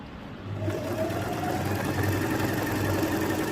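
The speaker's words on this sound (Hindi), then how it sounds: "अपना इस फर्स्ट वाले गाइड को मैं फॉलो करते हुए मैं सिलाई लगा रही हूँ" Singer 8280 sewing machine stitching a thin cord with a straight stitch presser foot, a steady mechanical hum with a low rhythmic drone running continuously at close range, no talking.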